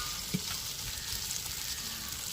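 Turmeric and pepper powders tipped into sautéed shallots, onion, green chilies and tomatoes for a fish head curry: a soft, even sizzle close by, with one light knock near the start and a faint scrape.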